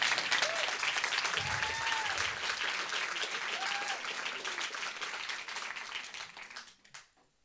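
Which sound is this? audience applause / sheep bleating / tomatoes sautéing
audience applause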